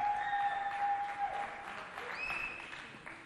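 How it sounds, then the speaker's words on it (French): Audience applause at an event for SOS Village d'Enfants, a sustained wash of clapping that gradually fades, with faint tonal sounds over it. "on applaudit très fort Estelle de SOS Village d'Enfants."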